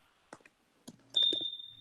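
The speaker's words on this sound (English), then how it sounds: "Somebody changed the battery in their smoke detector." A smoke detector with a newly changed battery emits a loud, sustained high electronic tone indoors, following a few clicks and soft knocking sounds, with no talking.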